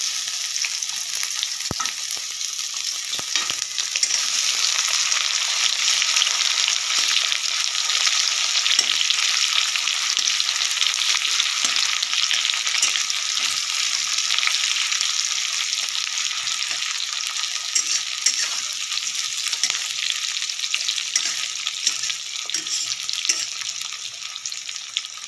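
Potatoes and onions fry in a pan with a steady, moderate sizzling hiss that holds for the whole stretch, with faint stirring and no voices.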